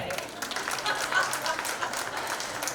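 An audience at a business panel discussion and pitch event applauds, a soft, steady patter of many hands clapping from a moderate distance, fairly faint and continuous throughout.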